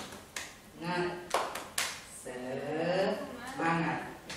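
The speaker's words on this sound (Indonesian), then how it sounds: "Kita lakukan gerakan tepuk semangat." An Indonesian school class doing rhythmic 'tepuk semangat' group clapping in a classroom, bursts of hand claps mixed with chanting voices over a loud, busy room.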